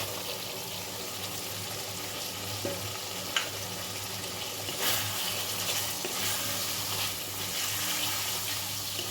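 Pointed gourd with spice paste sautéing in a pan for doi potol, a steady sizzle under intermittent scraping of the stirring spoon, with no one talking.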